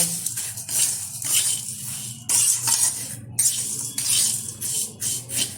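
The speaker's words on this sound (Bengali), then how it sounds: "এখন এর মধ্যে দিয়ে দেবো কিছুটা আমুল দুধ গুঁড়ো আমুল দুধ এবার সুন্দরভাবে আবারও নেড়ে নেব" A utensil stirs vermicelli with sugar and Amul milk powder in a pan, producing repeated close scraping and rustling strokes in uneven bursts with brief pauses between them.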